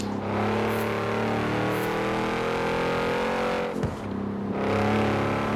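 A Lamborghini Urus engine in the video game Forza Horizon 4 drones steadily at high revs, with a brief dip and surge near the end, loud and continuous with no talk.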